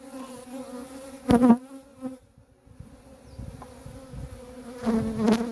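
Steady low buzzing of many honeybees close by on the outer frame of a hive, with a couple of louder swells as bees pass near, continuous throughout.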